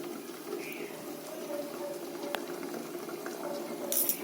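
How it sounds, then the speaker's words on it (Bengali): Thin katla fish curry boiling in a covered pot, a soft, steady bubbling simmer heard close but quietly, with a faint tap near the middle. "মাছটা দিয়ে 2 মিনিটের মতন একটু ফুটিয়ে নেব"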